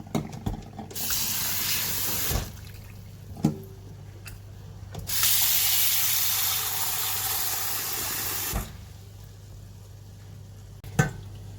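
Horse gram being rinsed in water in a pot to wash out sand, heard as a few separate spells of sloshing, swishing water with short knocks in between, close and fairly quiet.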